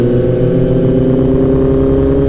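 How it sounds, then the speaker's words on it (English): A 2015 Kawasaki ZX-10R sport motorcycle with a loud aftermarket exhaust holds a high, steady engine drone with dense harmonics, close and loud throughout the short stretch, with no voices. "This bike with Kaibo's exhaust is very loud, yeah, very loud."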